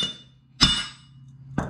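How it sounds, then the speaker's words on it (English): A hammer strikes a universal joint being driven into a shaft, two sharp metallic blows with a ringing clink about a second apart, close and loud with no talk. "I'm going to take it and hit it a few more times here with the hammer"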